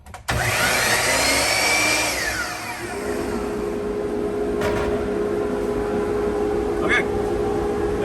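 A loud, steady mechanical whine of a power saw running continuously, with a rising pitch at start-up and faint clanks over the drone.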